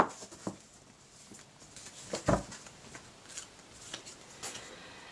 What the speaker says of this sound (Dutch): We gaan hierbij 5 tarotkaarten erbij nemen om een eerste idee te krijgen